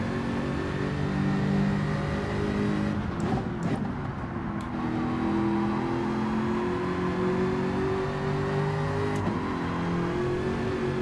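A Jaguar race car in the Gran Turismo racing game runs with a steady, loud engine drone throughout, its pitch rising and falling through the gears, and a short dip in the middle.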